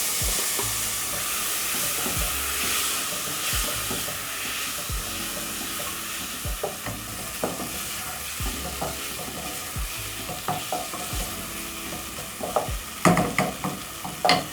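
Onions, garlic, ginger and tomatoes frying in a pan for green peas curry, a dense steady sizzle broken by repeated spoon scrapes and clanks, growing busier toward the end.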